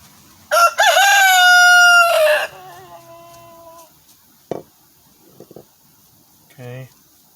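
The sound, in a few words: rooster crowing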